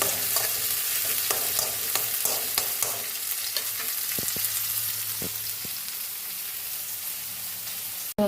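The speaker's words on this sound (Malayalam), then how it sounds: "ഉള്ളിയും ഒരുവിധം വാടി വരുന്നുണ്ട് അപ്പം നമുക്ക് പച്ചമുളക് ഇട്ട് കൊടുക്കാം" Onions and green chillies frying in a pan, a steady close sizzle with intermittent stirring scrapes and clicks, continuous and alone until a sudden cut at the end.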